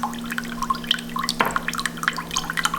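Coconut water poured from a freshly opened coconut gives soft, irregular drips and splashes, close and fairly faint, with a low steady hum underneath.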